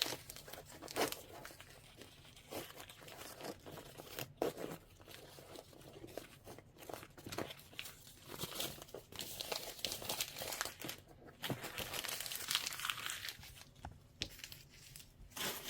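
Wash-away stabilizer being torn from the back of a machine-embroidered holiday tote panel, giving close, repeated crinkly rips and paper-like crumpling in irregular bursts, louder near the end.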